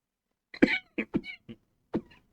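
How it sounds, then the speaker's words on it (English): A short fit of several dry coughs close by, a quick cluster followed by one more cough after a pause, from a player during Minecraft gameplay. "choke and cough some more"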